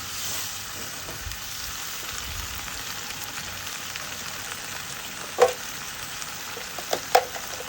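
Beef stir-frying with Thai curry paste, fish sauce and water from rinsing the chilli mortar makes a soft, steady sizzle nearby, with a few sharp spatula knocks toward the end and no speech.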